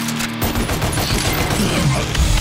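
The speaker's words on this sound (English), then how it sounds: "High caliber handguns capable of maintaining high rates of fire against a single target." Ebony and Ivory handguns in DmC: Devil May Cry, high-caliber pistols firing a rapid, unbroken stream of shots, loud and close, with game effects layered over the barrage.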